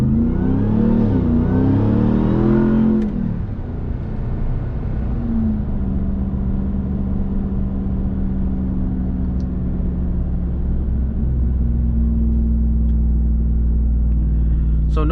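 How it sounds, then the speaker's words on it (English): A Ram TRX pickup with an aftermarket exhaust roars loudly under hard acceleration for about three seconds, the engine note climbing through gears, then settles into a steady deep rumble while cruising. "give a little bit more of a POV impression of the exhaust sound"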